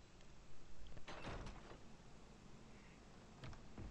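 A door in the video game Far Cry 4 slides and clatters in several quiet bursts, with soft mechanical scraping and brief knocks over a low steady background.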